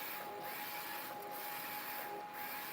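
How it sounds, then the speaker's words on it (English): A direct-to-film (DTF) printer runs while printing a design, a steady mechanical whir with a faint tonal hum and print-head passes returning about once a second, loud and close with no voices. "the design's gonna start printing out"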